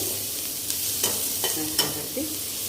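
A chilli tadka with Kashmiri and dried red chillies sizzles in a pan for dhaba-style dum aloo, with a steady frying hiss and a few sharp scraping clicks of stirring spaced across the clip, no speech.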